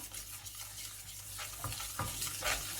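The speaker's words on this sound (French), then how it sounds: "Ensuite, commencez à remuer comme ceci" Yellow taro sauce is stirred in a pot with a soft, continuous scraping and bubbling wash, and a few louder strokes come near the end, close and quiet, with no speech.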